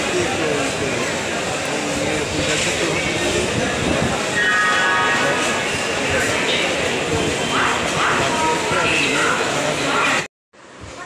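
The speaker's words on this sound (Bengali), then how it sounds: "এই যে আমাদের ট্রেন ঢুকছে" A train pulls into a busy station platform with a loud, sustained rumble and clatter, while people talk nearby and a dog barks, before the sound cuts off abruptly.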